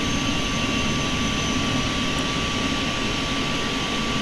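Simulated BAe 146 jet engines in the Prepar3D flight simulator hold a loud, steady roar with a constant high whine, unbroken and alone for the whole stretch.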